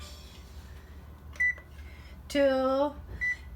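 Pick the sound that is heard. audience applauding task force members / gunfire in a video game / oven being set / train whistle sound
oven being set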